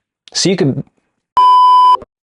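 A short spoken voice is followed by a clean electronic notification chime, a single steady tone about half a second long, loud and isolated against silence.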